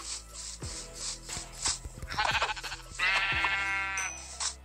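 Sheep in the Minecraft video game bleating several times in short, separate calls, loud and close, with light clicking game sounds between them.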